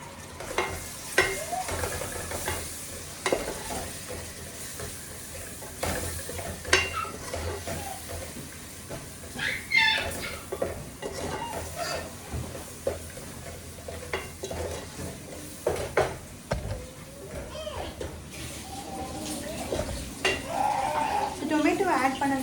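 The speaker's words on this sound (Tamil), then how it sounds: "இந்த டொமேட்டோவை இதில் ஆட் பண்ணுறேன்." Chopped tomatoes are stirred into fish gravy frying in a pan, with sizzling, spoon scrapes and clinks against the pan, and a voice talking over the cooking.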